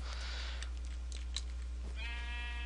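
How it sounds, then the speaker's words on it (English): A sheep in the Minecraft Aether mod gives a single short bleat near the end, heard over a low, constant hum. "What is that? A sheep."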